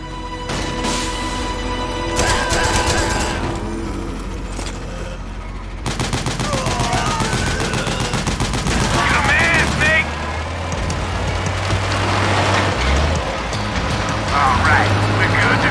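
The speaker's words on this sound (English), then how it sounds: "Use the machine gun." Machine-gun fire in Metal Gear Solid 4 bursts in rapid rattling volleys beneath game dialogue and a blaring soundtrack, loud and continuous, with engine rumble and explosions mixed in.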